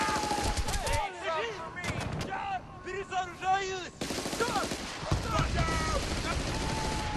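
Gunfire and cannon blasts crack in Battlefield Bad Company, with a small mounted cannon firing among dense rapid shots throughout, loud and close, with chaotic game noise and voices.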